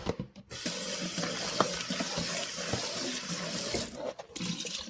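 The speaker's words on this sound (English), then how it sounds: "I want to wash my tomatoes properly before I start cutting them for blending" Tap water runs steadily into a kitchen sink as fresh organic tomatoes are washed in a bowl, a continuous close splashing wash with brief dips and clinks, no talking.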